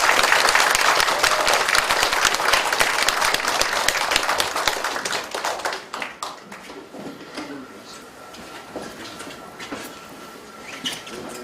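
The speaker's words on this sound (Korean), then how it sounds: "우리 한영규 조합장님을 좀 뜨거운 박수로 좀 환영해 주시죠" An audience at a Korean apartment reconstruction briefing gives a warm round of applause to welcome the union chairman. The clapping is loud and dense at first, then thins out after about six seconds into scattered claps and quiet room noise.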